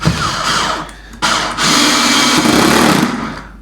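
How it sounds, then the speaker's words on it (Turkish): An electric drill set to its lowest torque drives a screw, its motor whirring loudly and close in two bursts. A short pause separates the bursts, and the second run is longer and steadier. "Şimdi tork ayarını en düşüğe getireyim. Bir vidalama yapalım."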